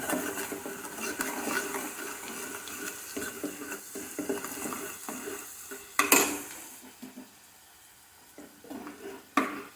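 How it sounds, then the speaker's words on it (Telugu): Onions frying in a pan for mutton curry: soft sizzling with stirring scrapes and clinks of a spoon against the pot, close up, with a sharp metallic knock partway through and no talking. "ఉల్లిపాయలు వేగుతున్నాయి"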